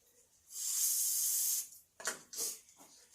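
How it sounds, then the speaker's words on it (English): A steady aerosol spray of Fluid Film lubricant hisses for about a second, then stops, followed by a few short clicks and rustles nearby, while installing a bumpstop on a Jeep TJ. "I'm going to spray a little fluid film on there."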